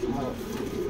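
Racing pigeons in a loft coo in a soft low warbling burst, close by, with a voice present.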